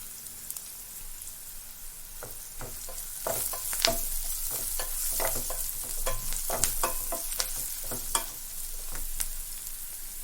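Curry leaves and turmeric fry in hot oil in a pan with onions, a steady low sizzle broken by sharp spitting crackles and pops that grow busier midway.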